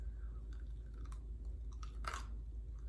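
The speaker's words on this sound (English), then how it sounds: "Can you hear the crunch?" Close, crisp crunching as a crunchy stuffed muffin is chewed in repeated bites, with no talking.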